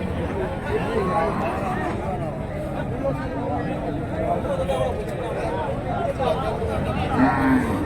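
Cattle at a busy rural cattle market in Karimangalam, Dharmapuri, where dairy cows are sold, heard amid a steady hubbub of crowd chatter and people talking nearby, with faint animal sounds mixed into the din.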